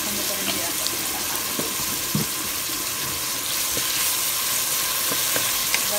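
Onions and fennel seeds sauté in a pan for a Sri Lankan ground-spice chicken curry. A constant close hiss carries occasional light knocks from stirring, with no clear speech.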